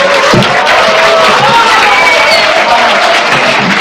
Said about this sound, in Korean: 뜨거운 박수 한번 다시 부탁드리겠습니다